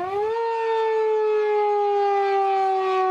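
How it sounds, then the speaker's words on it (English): A loud outdoor tornado warning siren in the Kansas City metro wails with a steady, sustained tone after a brief rising start, holding strong and unbroken, blaring at over 100 decibels. "There's something unique about a siren that's blaring at you from over 100 decibels."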